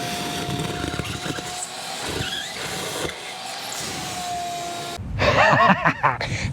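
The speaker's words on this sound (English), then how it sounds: "Now we'll just go suck the other end with the vacuum." A shop vacuum pulls a pull line through a long run of conduit, over 75 feet, with a steady roaring suction drone. It rises into a louder, rougher burst near the end as the line is drawn through.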